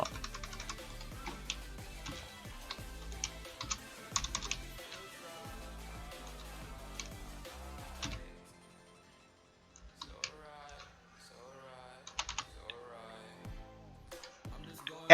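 HTML code is typed on a computer keyboard in quick, close, quiet bursts of key clicks. The clicking pauses briefly for a near-silent gap, then resumes in sparser taps.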